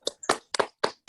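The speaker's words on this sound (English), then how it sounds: "Let's clap them, everybody, even if they can't hear your clap." Clapping at an awards ceremony, five sharp, close hand claps in an uneven rhythm with silence between them.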